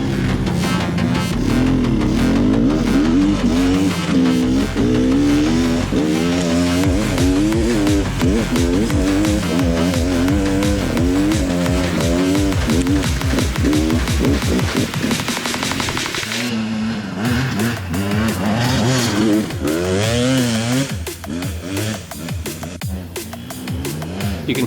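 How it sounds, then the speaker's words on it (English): A 200cc enduro dirt bike engine revs hard and close for a long stretch, its pitch climbing and dropping in quick waves as the rider works the clutch and throttle, with a brief cut before the engine picks up again. "You can hear Andrew working the clutch nicely here"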